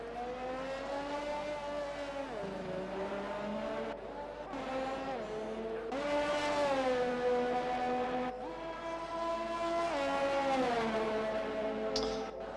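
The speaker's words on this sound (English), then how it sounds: "As the cars just come round now, circulate the track" Race cars in a racing video game lap the Monaco street circuit, their high engine whine rising and falling with shifting revs in one continuous, loud stream with no talk.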